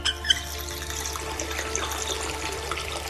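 Water pours steadily from an opened valve in House of 1000 Doors: Family Secrets, a constant faucet-like rush with a small splash at the start, fairly quiet and without voices.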